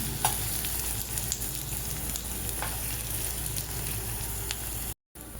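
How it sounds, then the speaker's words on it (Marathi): Garlic roasts in a pan with a steady, close sizzle and occasional faint stirring clicks; the sound breaks off briefly near the end before resuming. "आता हळूहळू त्याला चांगलं भाजून घ्यायचं आणि ते सुद्धा खरपूस असं भाजून घ्या."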